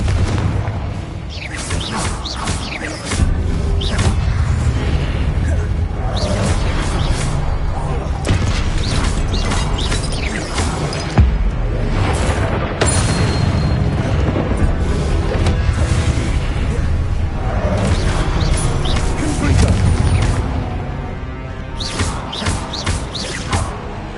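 Loud, dense battle noise from Hogwarts Legacy gameplay: repeated booming Confringo fire-spell blasts and crashes over a constant roar, with heavy thuds recurring throughout.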